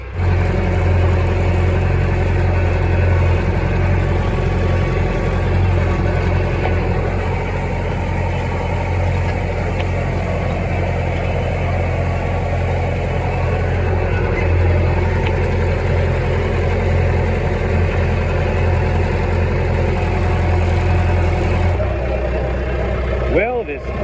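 A tractor pulling a hay rake across a bumpy hay field runs with a steady, loud, close engine drone and rattling. It continues unbroken for a long stretch, then drops in pitch near the end as someone talks over it.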